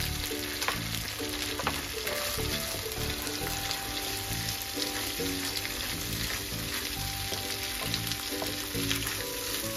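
Onions fry with ginger and garlic in hot oil for a mutton kofta curry, giving a loud, steady sizzle throughout with occasional stirring scrapes and clinks, no talking.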